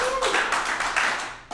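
A small audience at an NBA draft lottery livestream claps briefly, scattered handclaps fading over about a second and a half.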